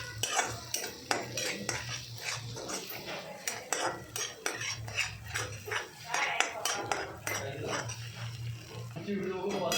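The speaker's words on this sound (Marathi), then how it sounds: "आता आपण याच्यामध्ये अंडं फेटलेलं आहे ते टाकून घ्यायचं। आता हलवत मिक्स करायचं, हळूहळू मिक्स करायचं।" Spoon scraping and clinking in a pan as beaten egg is stirred slowly for egg bhurji, irregular metallic taps and scrapes close by, with a faint background hum.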